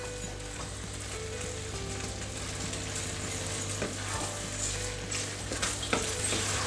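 Fettuccine with ham and mushrooms is tossed and stirred in a frying pan, a steady close sizzle broken by scraping and clattering stirs, with no voices.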